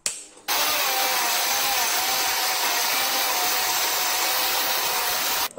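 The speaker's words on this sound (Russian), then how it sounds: "Подключил пылесос. Теперь включаем УШМ и пилим." An angle grinder cuts into an aerated concrete block with a vacuum cleaner attached, giving a loud, steady, high-pitched whine and grinding roar that starts abruptly and runs unbroken for about five seconds before cutting off.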